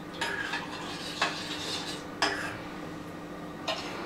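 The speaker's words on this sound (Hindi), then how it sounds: "बीच में हम इसे हल्का धीरे से चलाते रहेंगे जिससे इसमें गांठें न पड़ने पर" Rice papad batter stirred slowly in a pot over low heat, a few distinct scraping strokes of a utensil against the pot spaced about a second apart, close and fairly soft with no talking.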